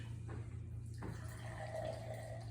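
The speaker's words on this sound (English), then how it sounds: "Use some cube soda here. Just about 1 ounce in the bottom of each." Soda water poured into the bottom of a cocktail glass, about an ounce, for a Ramos-style drink: a brief, fairly quiet liquid pour and fizz over a steady low hum, with no talking.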